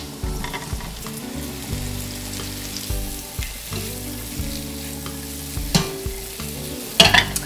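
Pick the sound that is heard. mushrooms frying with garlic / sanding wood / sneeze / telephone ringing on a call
mushrooms frying with garlic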